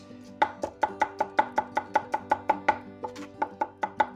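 Knife chopping garlic on a cutting board with the blade pinched, a steady run of about sixteen crisp, close taps at an even rhythm, with no talking.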